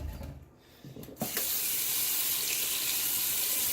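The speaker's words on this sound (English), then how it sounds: "And this time we're going to fill it with hot water." Hot water gushes from a kitchen tap into a cooking pot for corned beef brisket, starting abruptly after a second of quieter handling and then pouring as a steady, close, loud rush.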